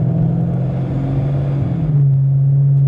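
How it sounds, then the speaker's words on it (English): A car accelerating on a road toward 40 mph ahead of a braking test, a loud steady engine drone from inside the cabin that climbs slightly, then settles into a constant hum. "we'll get up to 40 miles an hour"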